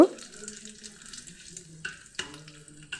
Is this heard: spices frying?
yes